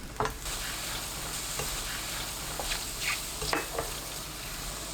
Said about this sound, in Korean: 팬에 표고버섯 270g, 다진 마늘 1큰술, 물 50ml 넣고 센 불로 켭니다. 3분 볶아주세요.